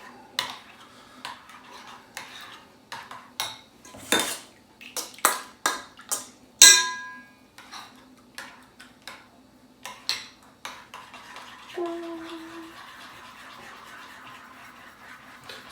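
A utensil stirring Thai chili sauce in a bowl, with a run of separate clinks and scrapes against the dish, some sharp and ringing, heard up close and alone with no voices.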